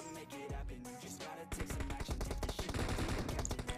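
Gunfire in PUBG, with a burst of automatic shots coming from the left, rapid dense cracks building into sustained fire over in-game background noise, nobody speaking.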